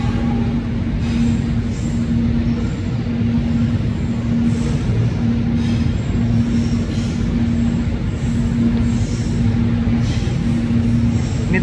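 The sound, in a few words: freight train carrying coal passing, Cigading to Nambo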